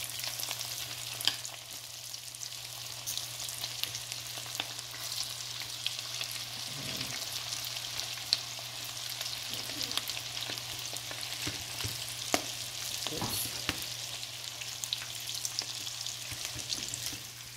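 Cassava cake pieces frying in hot oil, a steady broad sizzle running throughout with occasional louder crackles and spatters, close and alone without talk.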